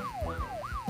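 A Minecraft ambulance siren wails in a fast, repeating rising and falling tone, fairly quiet, with a low engine rumble underneath.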